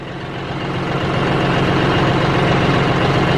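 A tractor engine idles steadily after a morning of bushhogging thick brush, giving a loud, close, even low rumble that swells slightly at the start and then holds constant with no talk.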